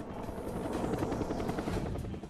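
An Erickson S-64 heavy-lift helicopter flies overhead, its rotor thumping in a dense, steady drone at moderate distance, heard alone.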